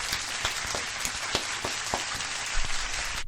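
A small group gives a short round of applause, scattered hand claps with a few sharper individual claps standing out, moderately loud and continuous for a few seconds, no speech over it.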